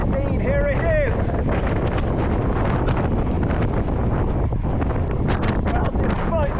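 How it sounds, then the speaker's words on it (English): Loud, steady wind roar buffets the microphone throughout as a strong gust of headwind hits an eBike rider on the road, with faint voice fragments under the blustering noise. "but I'm expecting a gust of wind any minute."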